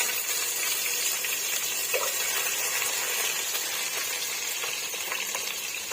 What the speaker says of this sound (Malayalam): ഇഞ്ചി, വെളുത്തുള്ളി, പച്ചമുളക്, അങ്ങനെ ഞാൻ ഇതെല്ലാം ഇതിൻ്റെ അകത്തേക്ക് ഇട്ട് കൊടുത്തു. ഇനി അത് നമ്മളൊന്ന് ഫ്രൈ ചെയ്യാണ്.